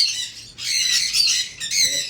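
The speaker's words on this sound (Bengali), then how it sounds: "এই দেখো কত চিল্লামিল্লি হচ্ছে" Caged cockatiels and other pet birds squawk loudly and shrilly in close, overlapping bursts, with a brief lull midway.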